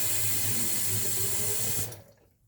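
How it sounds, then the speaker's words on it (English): Tap water runs steadily into a container being filled for a homemade cleaner of isopropyl alcohol and water, a close, full hissing stream that cuts off near the end, leaving a brief fading trickle. "the rest we're filling up with water"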